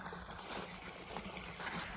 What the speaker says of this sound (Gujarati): હવે આ જો પાણી આવે છે